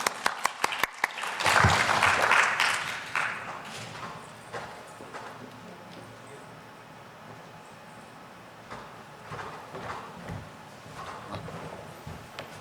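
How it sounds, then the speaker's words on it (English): An audience at a technical security talk applauds two speakers being introduced: a few sharp claps first, then a brief swell of clapping that quickly fades into quieter room noise with scattered later claps. "If everybody could give them a round of applause."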